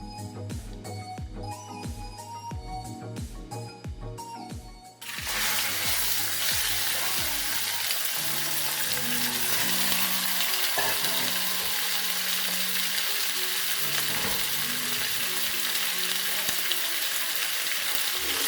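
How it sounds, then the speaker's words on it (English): After a few seconds of music, a loud, steady sizzle of chicken strips frying in hot oil takes over and continues, crackling and hissing. "You just hear that beautiful sizzle from the chicken and the hot oil"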